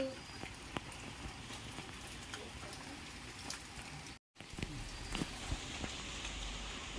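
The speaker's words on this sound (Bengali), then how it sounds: "প্রচণ্ড বৃষ্টি হচ্ছে" Continuous heavy rain hissing and pattering on surfaces, with scattered heavier drops and a momentary dropout near the end.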